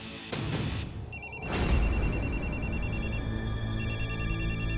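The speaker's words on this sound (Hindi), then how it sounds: "ये मेरी रिंगटोन नहीं है" A phone ringtone plays steadily as a repeating electronic melody, fairly loud, with no talking over it.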